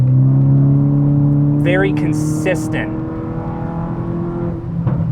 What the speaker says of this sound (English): You can hear it roaring away in the engine, just how consistent that spark is